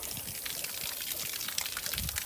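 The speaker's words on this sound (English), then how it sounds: "Gotta get some more fresh water in here for the pigs." Fresh water pours steadily into a trough for pigs on a warm day, a continuous close splashing gush with no voices.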